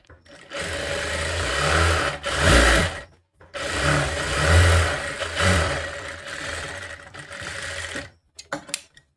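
Sewing machine running in long bursts of stitching as plate stitches go onto both sleeves of a katori blouse, a steady mechanical whir that pauses briefly around the middle and stops near the end, close and loud with no talk.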